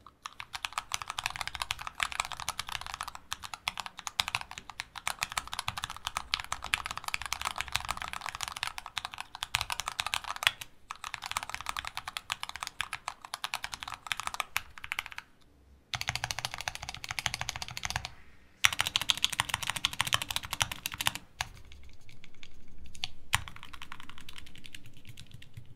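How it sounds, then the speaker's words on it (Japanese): Steady, fast typing on an AZ-66JP keyboard with foam-taped, lubed stabilizers and a modded, lubed housing, a dense run of close, smooth keystrokes with brief pauses. "これで完成したので、また打鍵音を聞いてみましょう。"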